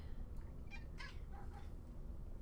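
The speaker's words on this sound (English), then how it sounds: "Sorry, I don't know if you guys heard that. That was my cat, Harley." A house cat gives a few short meows, faint and somewhat distant, over a quiet background hum.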